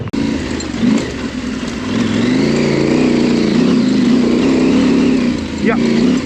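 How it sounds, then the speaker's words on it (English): Motorcycle engine running at a steady idle-like drone with slight rises in pitch, close and fairly loud, while people talk over it. "This is a good looking bike and it sounds good too."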